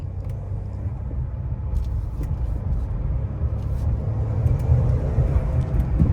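A newly bought car drives along a city avenue, heard from inside as a steady low road rumble and engine drone that swells slightly louder toward the end, with no talk over it.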